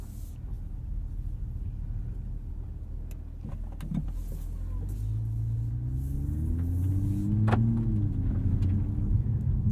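A grey 2022 Toyota Supra driving, its engine a steady low rumble that slowly builds, with a faint electric whine and a rising tone near the end, alone without talk.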